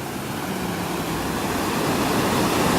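Dense, steady rush of brook water flowing hard beneath a bridge at Tunnel Brook, loud and close, with no voices.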